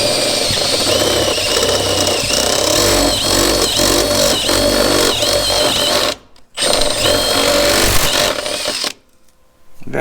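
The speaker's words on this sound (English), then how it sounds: "Take our step drill bit. And you'll see how it plunges in," A step drill bit bores through sheet metal in a loud, close, whining grind that rises and falls, then breaks off twice into brief silence as the bit plunges through.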